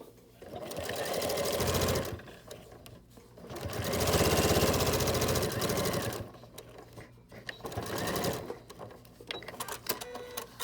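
A sewing machine stitches a fabric face mask in close, loud bursts of rapid mechanical whirring, three long runs separated by short pauses filled with handling and clicks.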